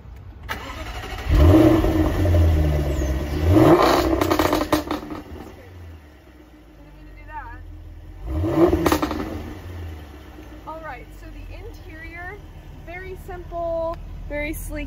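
A 2014 Jaguar F-Type V8 S with a 5.0L V8 cranks and fires up, then revs in a few loud bursts that settle to a steady idle, with bits of nearby speech layered over it.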